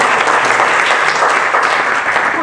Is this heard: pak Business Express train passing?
no